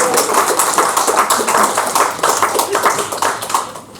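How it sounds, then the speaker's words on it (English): Comedy show audience applause, a close, loud burst of many hands clapping in rapid, uneven rhythm that continues throughout and fades slightly at the end. "Please give her a round of applause."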